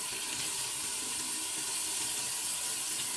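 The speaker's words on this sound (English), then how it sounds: "I need to rinse the brushes out and make sure that I get the residue" Electric spin scrubber brushes being rinsed under a running tap, a steady broadband rush of water splashing into a sink that continues evenly throughout, ending with a brief clatter.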